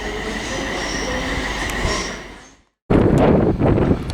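A train at Haymarket station in Edinburgh rolls by with a heavy, loud rumble and high wheel squeal. The noise cuts out briefly, then comes back just as loud with clattering wheels.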